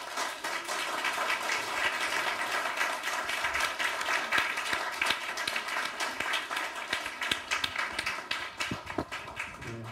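Audience applause after a percussion concert at a live artist-series performance: dense, steady clapping from a close crowd for about ten seconds, thinning into a few scattered claps at the end.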